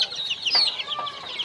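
A chicken on a poultry farm clucks close by in a few quick, bright calls over a quiet background.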